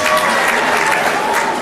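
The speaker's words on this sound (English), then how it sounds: "Please, a big round of applause for all of our fighting guests." Loud, dense applause from a crowd at a Crack Ya Ribs comedy show in 2015, a thick continuous roar of clapping with faint voices mixed in.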